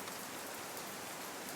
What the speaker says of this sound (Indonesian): Hujan deras mengguyur Bandung malam itu.